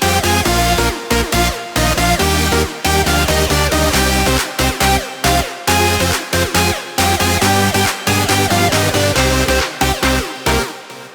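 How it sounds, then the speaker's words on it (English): A bright, dense supersaw synth plays the breakdown melody of an electronic track, loud and continuous with rhythmic chopped gaps and sustained harmonic chords layered with organic and synth elements. "Last main element of the breakdown is the super saw that sounds like this."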